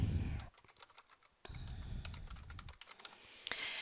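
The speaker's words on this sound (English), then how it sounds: "notice what happened right here when I start typing" Typing on a computer keyboard while editing a Google Docs document, with a quick run of close, crisp key taps that stops briefly and then starts again.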